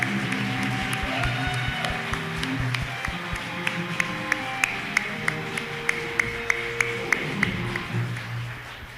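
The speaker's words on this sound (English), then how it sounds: "So big round of applause, Dai Tao." Audience applause at a mayoral forum in a theater, a dense steady wash of clapping from a crowd with sharp regular taps cutting through, loud and sustained throughout.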